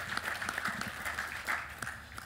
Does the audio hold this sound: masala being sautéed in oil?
no